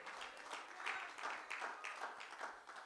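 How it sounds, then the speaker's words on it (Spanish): Steady applause from a congregation at a Pentecostal church service, fairly distant and soft, with rolling waves of clapping throughout. "¿Cuántos le dan un aplauso al Señor?"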